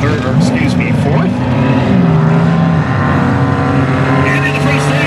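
Ministock race cars roar around a track, with engine drones rising and falling as they pass and sustained motor noise running under steady announcer commentary.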